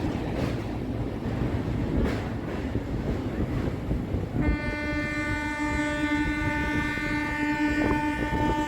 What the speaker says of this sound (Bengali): one two zero two one Howrah Barbil Janshatabdi Mourigram station cross করছে